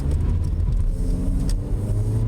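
A car engine runs steadily and close, with a low rumbling drone that holds even throughout and one slight surge partway.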